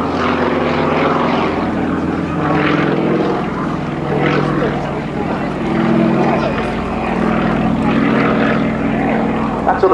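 A propeller plane flying an aerobatic display at an airshow drones loudly overhead, its engine pitch rising and falling as it maneuvers and descends, with someone talking over it.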